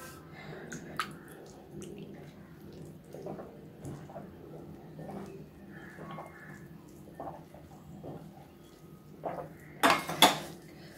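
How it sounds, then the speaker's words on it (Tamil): Boiled corn is worked by hand with flour, a little salt and sprinkled water in a bowl: soft, steady squishing and rubbing with faint clinks, then a loud clatter of utensils near the end, with no talk. "தண்ணி தெளித்து இந்த மாதிரி corn பிசைஞ்சுக்கோங்க"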